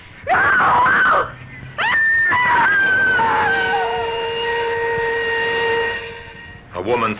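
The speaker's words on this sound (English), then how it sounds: "A woman screamed and cried for help on the Wayfield Common" A woman in a dramatization screams and cries out for help in loud, wailing bursts, with sustained shrieking tones that fade and waver before a final sharp cry.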